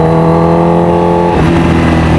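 Kawasaki Ninja H2R supercharged motorcycle with straight-piped exhaust revs loudly up close, a dense, steady engine drone whose pitch drops partway through as the throttle eases, then holds at a lower rumble.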